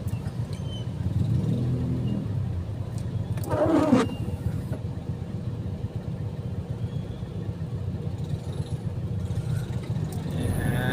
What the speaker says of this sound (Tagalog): Oops, mga motor ang kalaban namin yan, ah. mga motor na yan.